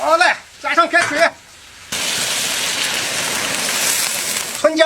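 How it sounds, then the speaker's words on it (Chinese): Boiling water poured into a giant wok with spiced, stir-fried pork belly, a sudden loud rushing hiss that holds steadily for about three seconds, with someone talking just before and after. "好嘞，加上开水"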